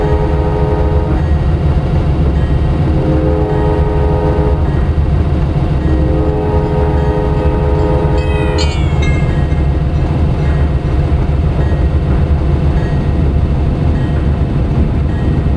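Heard from aboard the Amtrak Carolinian, a loud continuous rumble and roar of rail travel, with a brief tonal screech midway.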